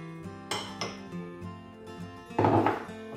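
Caster sugar and butter worked together in a bowl, with a utensil clinking and knocking against the dish in uneven strokes, ending in a longer scraping rattle, close by with no talking.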